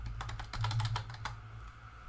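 A password being typed on a computer keyboard: a short, quick burst of about a dozen close, crisp key clicks in an uneven rhythm, with a few louder taps, over a low steady hum.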